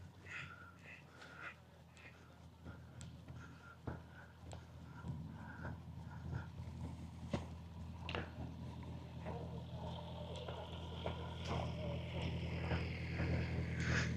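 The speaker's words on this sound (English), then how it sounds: "It's nice when a boat goes by." A boat goes by on the Grand Union Canal past farm fields, its low engine hum slowly building over a quiet outdoor scene with scattered faint knocks and clicks and no talk.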